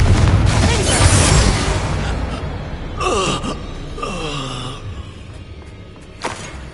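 The Bombarda blasting spell explodes with a loud booming burst at the start, followed by a fading rumble, sharp swishing effects and a short gasp-like vocal sound near the end, all in a Harry Potter video game.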